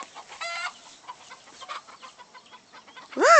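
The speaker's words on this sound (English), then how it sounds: "Look, chicken. The chicken." Chickens cluck nearby in short, scattered calls, with one louder, rising squawk at the end, over quiet background sound, and no voices clear.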